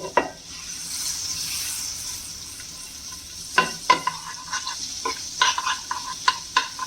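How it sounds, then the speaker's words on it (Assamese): Ginger garlic paste and fenugreek seeds hitting melted butter in a pan for dal tadka, a close, steady sizzle broken by a run of stirring clicks and scrapes in the second half. "বাটাৰখিনি গলি গৈছে এতিয়া আদা ৰচুনৰ পেষ্টখিনি দি দিম"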